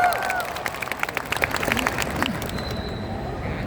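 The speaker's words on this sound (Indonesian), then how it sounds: "tepuk tangan untuk jurnalis Indonesia" Crowd at a gathering of workers and ride-hailing drivers applauds Indonesian journalists, scattered claps over a noisy hum of voices, moderately distant and fading out toward the end.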